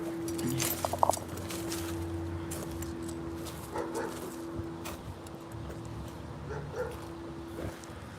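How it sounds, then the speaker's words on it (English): A dog barks and yips somewhere off in an abandoned amusement park, faint and intermittent under a steady hum and background noise. "It's just a dog over there."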